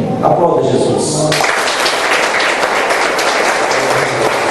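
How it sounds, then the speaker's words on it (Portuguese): A church congregation applauds during a service, a broad, loud roar of clapping that swells after a voice at the start and carries on steadily. "Aplauda Jesus."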